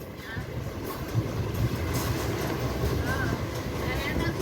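Steady low rumble and rattle heard from inside a moving train bound for Tirupati, continuous and fairly loud, with people talking over it.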